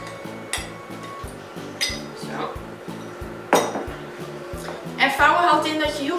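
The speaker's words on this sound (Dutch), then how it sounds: "Wat ik nu ga doen is, ik ga de chocola door de eieren heen vouwen. Dat doe ik eventjes met een spatel." A spatula folds chocolate through eggs in a bowl for lava cakes, giving repeated soft scraping and clinking strokes against the bowl, close by and rhythmic, with a steady low hum underneath.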